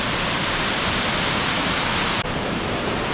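A small waterfall in the Krčnik gorge in Goriška Brda roars steadily and loudly, a dense unbroken rush of water that shifts slightly in tone partway through, with no voices.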